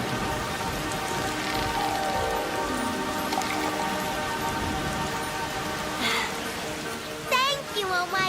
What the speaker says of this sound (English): I will make it rain.